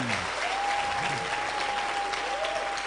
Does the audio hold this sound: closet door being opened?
no